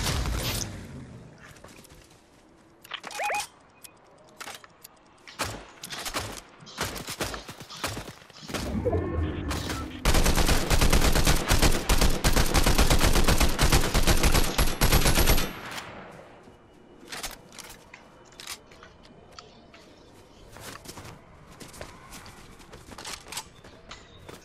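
Fortnite gunfire: scattered single shots and short bursts, then a dense sustained automatic volley for about five seconds, followed by more sporadic shots, loud and close, with no talk.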